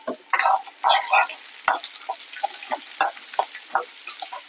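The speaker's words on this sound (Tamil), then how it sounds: "வெங்காயம் நல்லா வதங்கணும்," Onions sautéing in oil for onion kara kulambu: a string of close, uneven scraping stirs, the spoon strokes coming in short bursts over a quiet sizzle.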